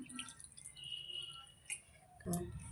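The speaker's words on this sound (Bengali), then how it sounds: "আটা আর ময়দা মিশিয়ে রেখেছি একটু জল দিয়ে নিলাম" Water poured from a small vessel into a bowl of mixed wheat and refined flour for mung dal paratha dough, giving a few brief drips and splashes with a louder splash near the end, close by in a quiet kitchen.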